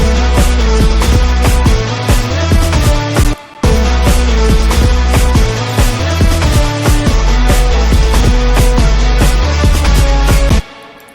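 A loud, dense distorted music track from a production session plays continuously with a thick, saturated low end and driving rhythmic hits, broken by one brief drop-out in the middle, and cuts off near the end.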